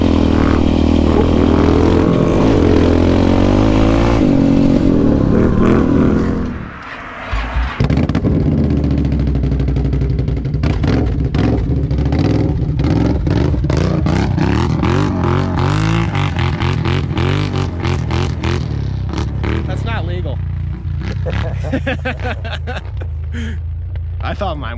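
Engines roar and rev loudly up close on a Can-Am Renegade 1000R and a Yamaha Raptor 700 ATV. There is a sharp drop about a third of the way in, then repeated throttle blips and rising pitch sweeps, with voices talking over them.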